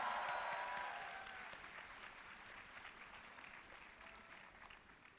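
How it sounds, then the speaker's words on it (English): Applause from the audience at an international chartered accountancy students' conference, a dense wash of clapping that starts full and slowly thins out over about five seconds, with no talk over it. "please give a big round of applause to our moderator and panelist"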